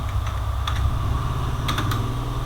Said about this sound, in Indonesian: Ketikkan perintah